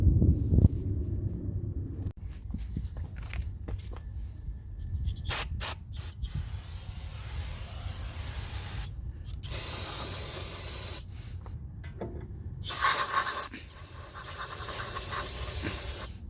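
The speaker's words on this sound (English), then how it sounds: "spray out the whole thing from the caliper, the piston, to the rotors" Repeated bursts of aerosol brake cleaner sprayed on a brake caliper, hissing loudly in several long and short blasts, close up, with brief pauses between them and no talking, during 2004 Acura TL front brake work.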